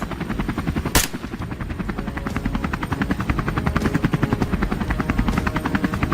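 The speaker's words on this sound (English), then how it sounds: "Our helicopter circles high above" A video game helicopter circles overhead during a wild boar hunt in a pine forest, its rotor thumping steadily and loudly, a fast rhythmic chop throughout, with a brief sharp burst near the start.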